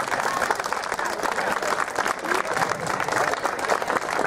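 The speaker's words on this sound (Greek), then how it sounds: "Έτσι, το θερμό σας χειροκρότημα." A warm round of audience applause fills the space at a dance event, dense steady clapping from a crowd that stays loud throughout.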